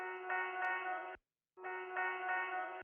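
A sustained tonal synthetic texture sample chopped in FL Studio plays, cuts off abruptly into silence, then resumes for another section before stopping again.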